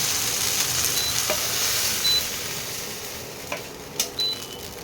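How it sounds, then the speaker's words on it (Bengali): Soft, continuous sizzling of okra in a pan, with a handful of light taps and scrapes from stirring. "একটু ভাজা ভাজা হয়ে যাক"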